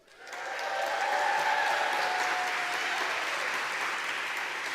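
A live audience breaks into sustained applause at an evening book event, swelling within the first second into a dense, even wash of clapping that holds steady to the end, with no talk over it.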